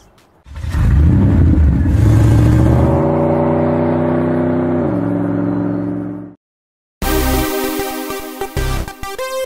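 A 2018 Porsche 911 Targa 4 GTS engine revs hard and loud, its rising harmonic roar holding for several seconds before cutting off; after a short silence it returns as a lighter, uneven idle with bursts.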